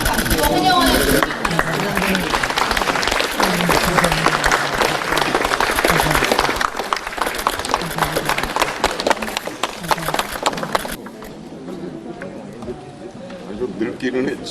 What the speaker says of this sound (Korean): 모두 자리에서 일어나 박수와 환영하는 분들